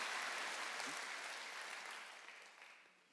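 Church congregation applauding during a Sunday worship service, a fairly faint, even clatter of many hands that fades gradually over about three seconds.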